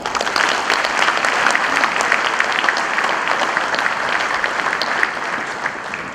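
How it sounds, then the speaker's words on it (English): Sustained, dense applause from a large audience at an evening event, steady and loud throughout with no pause, easing only slightly near the end. "asking for a big round of applause by everyone"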